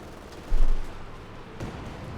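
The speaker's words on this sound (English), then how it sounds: "There you go, Katrina Barrage looking to silence those packs and get rid of those." Katyusha rocket barrage in the World War II strategy game Company of Heroes 2, a dense rumbling volley of explosions swelling loudly for a moment, then a second, softer burst of blasts over a continuous low battle rumble.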